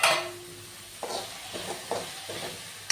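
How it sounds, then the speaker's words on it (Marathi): Green peas fry in masala in a pan, a quiet sizzle broken by several short spoon scrapes and stirring strokes at a steady pace. "वाटाणा घ्यायचा, वाटाणा फ्राय करून घ्यायचा चांगला घालून मसाल्यात"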